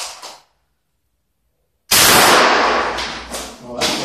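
A shotgun firing a tear gas round outdoors, with a loud blast followed by a long roaring, hissing burst that fades unevenly; a brief sound comes before a short silence.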